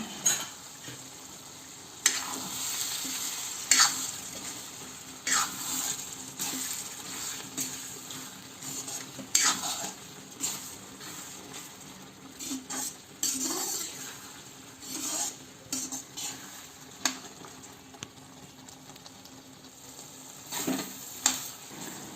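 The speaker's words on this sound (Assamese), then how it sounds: "অলপ সময়ৰ পিছত ঢাকনি গুচাই মই আকৌ অলপ লৰাই দিম" Chickpea and paneer ghugni stirred in a pan, a soft simmering sizzle broken by repeated spoon scrapes and knocks against the metal, close and irregular.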